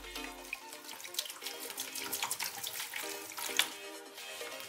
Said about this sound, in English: All right, Barbie, here comes the water.